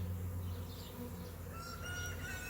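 A honey bee swarm being captured into a box outdoors, its low continuous buzzing droning steadily close by, with faint bird calls chirping in the background.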